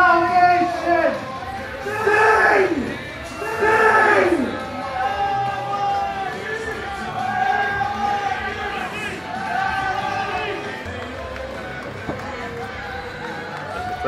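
At an Alberta pro wrestling event, the crowd chants a wrestler's name in loud rhythmic bursts that echo through the hall and then trail into scattered cheering and chatter.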